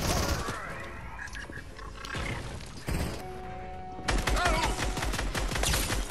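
Fortnite gunfire breaks out in sharp, scattered shots and impacts, then a louder, denser volley in the last two seconds.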